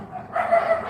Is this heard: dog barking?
yes